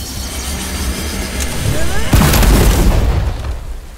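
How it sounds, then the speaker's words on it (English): In the video game Bright Memory Infinite, a charged rocket punch builds with a whooshing rise, then lands as a loud, heavy boom with rumbling aftershock that fades out, while someone talks over it. "Holding the button down while sprinting will charge up a rocket punch"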